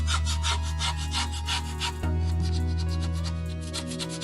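A spoon scrapes thick paste off a surface in steady rhythmic strokes, a close, gritty rubbing with a brief pause midway.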